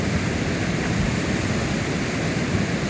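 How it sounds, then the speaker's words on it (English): Flash flood water rushes through an arroyo in La Luz, New Mexico, a loud, constant roaring wash with no break and no voices. "There's more water than there was before."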